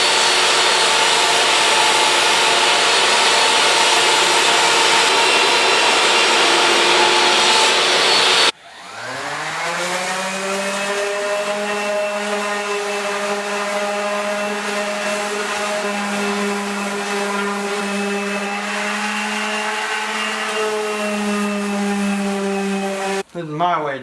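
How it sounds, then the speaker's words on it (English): A belt sander works on a plywood countertop piece for a truck camper build. Broadband rough sanding noise comes first, then it cuts out and a strong whining motor tone holds steady, loud and close. "Belt sander."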